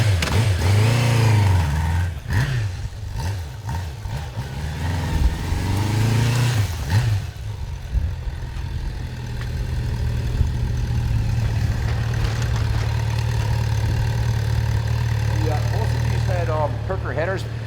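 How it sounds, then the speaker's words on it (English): A 1986 Suzuki GS550ES motorcycle with its stock exhaust pipes runs nearby, revving with a low growl at first and then settling into a steady idle, with someone talking over it throughout. "it has a real nice growl to it. Listen to the exhaust note."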